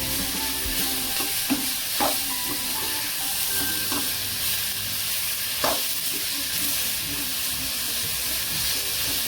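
Spring onion greens fry in a pan while a spoon stirs them, giving a steady close sizzle and hiss with a few brief scraping knocks of the spoon against the metal, and no talking.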